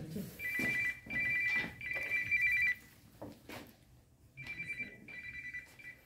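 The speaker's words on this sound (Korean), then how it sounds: "전화 벌써 왔네. 누구 전화지? 내 전화 같은데?" A mobile phone ringtone chirps in repeated bursts during a lecture at a theology class, fairly faint and somewhat distant, while people talk quietly over and between the rings.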